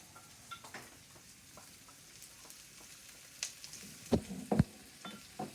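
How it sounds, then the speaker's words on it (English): Garlic and onion sizzle in a frying pan for a vegan mushroom stroganoff: a steady, soft hiss of frying with a few sharper clinks and stirring knocks toward the end. "That's a nice sizzle."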